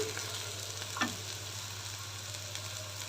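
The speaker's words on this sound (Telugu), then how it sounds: "వీటిలో బాగా కలుపుతూ వేయించుకున్నా" Vegetables and beans fry in oil for a Rayalaseema-style vegetable soup, making a dense, even hiss of sizzling close by with one brief scrape of stirring and no speech.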